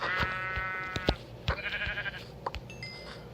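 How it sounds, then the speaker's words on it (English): Minecraft sheep bleating in the Bedrock edition, several short wavering bleats close by at irregular intervals, with light game sounds and footsteps around them and no talk. "There's another sheep."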